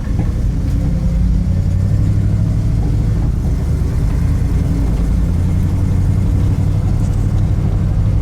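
A maroon 1956 Cadillac Custom View Master station wagon cruising through a residential neighborhood, its engine a steady, loud low rumble with constant road and cabin noise heard from inside throughout.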